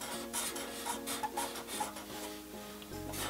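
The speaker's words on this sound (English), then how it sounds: "Then let's draw zigzags on the top." A pen or marker rubs and scratches across paper in quick back-and-forth strokes while zigzags are drawn, giving a close, steady scraping rhythm.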